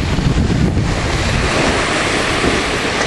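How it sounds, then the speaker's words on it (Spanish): Waves wash onto a beach under strong wind that buffets the microphone, a loud, continuous roar of surf and gusts with no voices. "Ya estamos en la playa."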